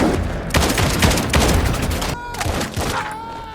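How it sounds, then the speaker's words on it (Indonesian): Loud burst of film gunfire as several men spray Cole's car with bullets in a Jason Statham action movie, dense overlapping shots over the first two seconds and then thinning out, with a groan and a ringing tone near the end. "keluar beberapa orang lalu memberondong mobil Cole dengan tembakan"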